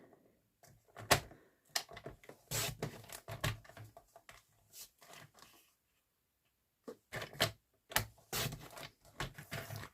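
Paper strip being cut into 2-inch tags, with repeated crisp snips and rustling in short bursts separated by a quiet pause, close and moderately loud with no talking.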